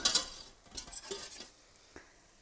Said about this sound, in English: So in goes the flour, give it a little stir. And then just cook off the flour.